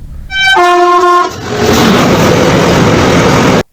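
A long, loaded coal freight train hauled by six locomotives gives a loud, steady horn blast. It then roars past close by with a heavy, continuous rumble and rattle.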